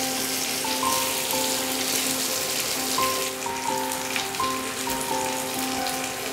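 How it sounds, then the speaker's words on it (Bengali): Pieces of chicken tandoori fry in a pan with a steady, close sizzling crackle that runs unbroken throughout, with no voices. "দেখুন এই সাইডটা খুব সুন্দর ফ্রাই হয়ে গেছে।"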